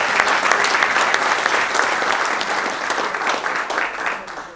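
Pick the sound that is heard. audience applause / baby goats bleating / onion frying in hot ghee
audience applause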